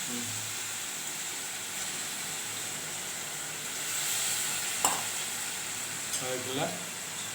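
A faint, steady sizzle of broad beans sautéing in a pan, with a few clinks and scrapes and a voice speaking briefly in Tamil over it.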